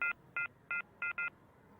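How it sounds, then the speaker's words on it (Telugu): Five short, clear telephone keypad tones sound one after another at a steady pace, with the last two close together, near and alone against a quiet background. "ఇంకో నెంబర్ చేస్తానుండు"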